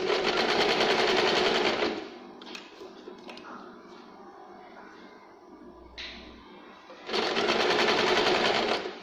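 A sewing machine stitches the sleeve of a cotton Katori blouse in two loud, rapid bursts, one at the start and one near the end, with a quieter pause of handling sounds between them.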